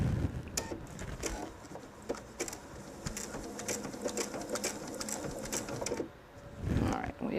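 A sewing machine pushes through thick layers of fabric on a jelly roll purse, the needle chattering in rapid, uneven bursts with brief pauses, close and fairly quiet, and a voice speaks in between.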